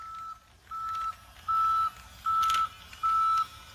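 Repeated electronic beeps, five evenly spaced tones at a steady rhythm, loud and close, like a vehicle's reversing alarm, from a BRIO Smart Tech toy train locomotive reversing.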